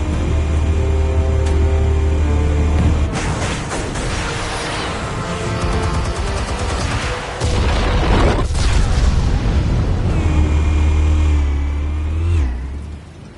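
Explosives detonate in a Batman video game, with heavy booming blasts and rumbling debris layered over continuous loud game noise and engine-like roaring throughout.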